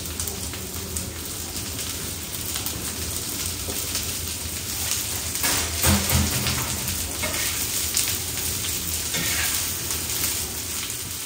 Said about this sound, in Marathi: भेंडीची भाजी मी तव्यावरच बनवते